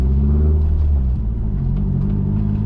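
A manual convertible cruises with its top up, a loud, close, steady low engine rumble and road drone filling the cabin, with no talk.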